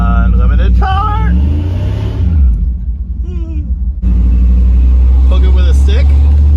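A 1984 Dodge D150 Stepside pickup with a swapped Magnum 5.9 V8 rumbles while driving, its engine note rising and falling under a voice, with a brief quieter dip midway.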